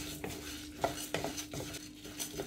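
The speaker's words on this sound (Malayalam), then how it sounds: "ഇതും കൂടെ കൂട്ടി നമ്മളൊന്ന് ഡ്രൈ റോസ്റ്റ് ചെയ്യുകയാണ്" Fenugreek seeds and dried red chillies are dry roasted in a pan, stirred with a spatula that scrapes and taps against the metal in quick, irregular strokes, close and fairly quiet with a faint background hum.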